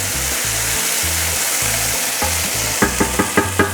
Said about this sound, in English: It's just gonna completely break down as it sautés with the garlic and broccoli.